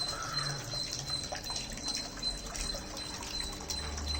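Fresh water pours steadily into a small balcony water lily pond stocked with guppies, a continuous close splashing and trickling wash with no voices.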